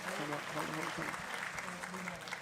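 At a school board meeting, the audience keeps up a sustained round of applause, with a voice speaking faintly over the clapping.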